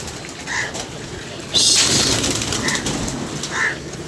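Pigeons cooing nearby, a few soft low coos spaced apart, over a steady background hiss that swells into a louder rush midway.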